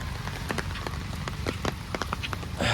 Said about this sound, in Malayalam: മഴ ചാറുന്നേ ഉള്ളൂ കേട്ടോ